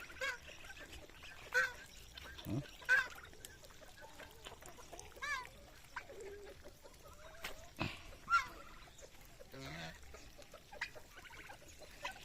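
A male turkey makes repeated honking gobble calls at a distance on a free-range countryside farm, scattered in short bursts over quiet outdoor background noise.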